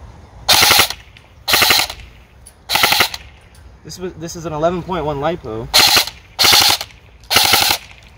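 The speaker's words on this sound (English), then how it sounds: "Full auto on this gun is just so fucking slow." An EMG SAI Salient Arms GRY M4 airsoft electric rifle with a G&P gearbox fires three short, slow full-auto bursts, then someone speaks briefly before three more bursts follow, each a rapid mechanical rattle, close and loud.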